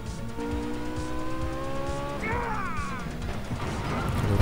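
Gangster Vegas video game car engine drones steadily, then tires squeal in wavering skids and a crash lands near the end, all loud and continuous.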